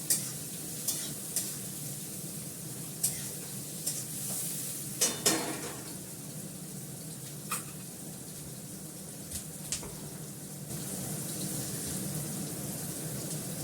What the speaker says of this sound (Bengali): ভালো করে পেঁয়াজটাকে ভেজে নেবো লাল করে